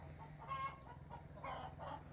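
Hens on a small farm with freshly collected eggs clucking close by, a steady run of short clucks and calls over low background noise, with no talk.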